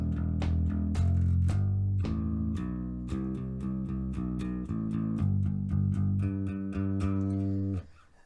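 Bass guitar plays a line from a Rockschool Grade 3 piece: a steady run of plucked, ringing low notes, close and clear with no voices, ending in a brief fade.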